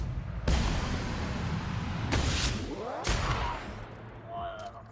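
Video game gunfire, loud broadband bursts of shots rolling into a sustained din, with fresh volleys cracking in around one and two seconds apart and a fainter tail near the end.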